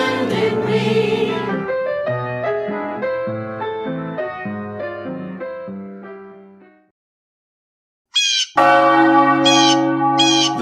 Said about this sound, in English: The bell calls us together in covenant, to share, to reflect, to hear with open hearts.